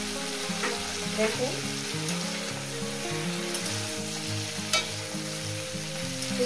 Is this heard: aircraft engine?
no